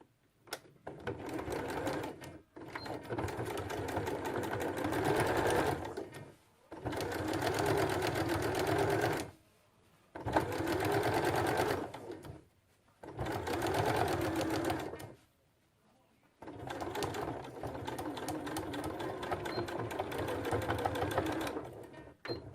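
Sewing machine stitching a seam on a winter slipper, close and loud, running in several long buzzing bursts separated by brief pauses.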